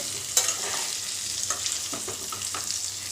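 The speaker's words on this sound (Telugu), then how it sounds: "కొద్దిగా ఈ నూనెలో ఫ్రై చేద్దాం వీటిని, వంకాయలని." Stuffed brinjals sizzling steadily as they fry in oil in a pan, with a constant hiss broken by occasional soft stirring clinks and taps. No one speaks.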